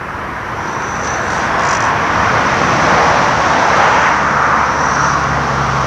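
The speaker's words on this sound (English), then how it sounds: "There's another car coming, I think." A single car passes at night, a broad steady rumble that swells through the middle and lingers, loud and close, with no voices.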